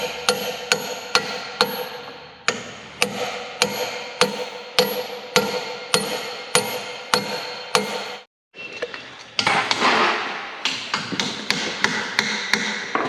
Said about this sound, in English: Kevin's tapping in the grease seal